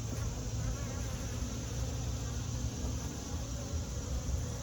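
Honey bees swarm around an old, separate hive box with leftover brood comb, a dense continuous buzzing close by that stays steady and even for the whole stretch, with no talking.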